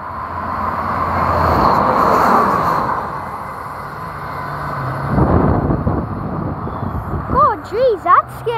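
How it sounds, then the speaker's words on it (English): A train in Hexham rumbles past nearby, a heavy low roar swelling and fading over several seconds while people talk close by, ending with a rising and falling horn-like wail. "This train's actually passing."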